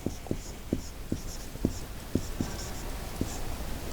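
Marker or chalk strokes on a classroom board during an IT lesson, a series of short, distinct taps and scrapes spaced unevenly, moderately close, with no voice over them.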